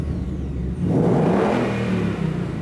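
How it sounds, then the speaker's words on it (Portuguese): A Ford Mustang Mach 1 V8 engine revs close by, climbing from a low idle into a loud, throaty roar that holds briefly and then eases off. "não existe nada melhor para aquecer o coração do que o ronco de um motor V8 de um Mustang"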